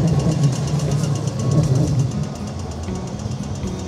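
A Melbourne train rumbles steadily nearby with a low droning engine and rolling wheel noise, continuous throughout.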